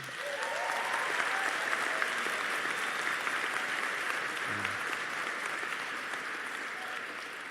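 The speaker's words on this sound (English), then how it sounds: "we ask our graduates to give their family and friends a warm round of applause" Warm, sustained applause from graduates at a law school commencement ceremony fills the hall, a steady dense wash of clapping from a large crowd lasting throughout with no pauses.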